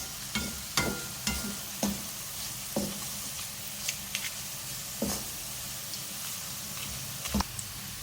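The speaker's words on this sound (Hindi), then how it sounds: "फ्राई करेंगे इसको।" Whole spices (a bay leaf, a small cinnamon piece, two black cardamoms, six cloves and eight or nine black peppercorns) fry in hot oil with a steady soft sizzle, punctuated by occasional clicks and taps of stirring.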